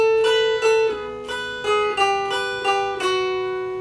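Mountain dulcimer playing a blues walk down, picked one note at a time: about eight clear plucked notes in an even, steady rhythm, each ringing over sustained drone strings, close and solo with no talk.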